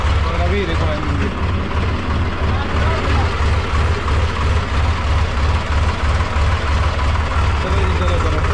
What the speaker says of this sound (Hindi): स्टार्ट हो रहा है ट्रैक्टर।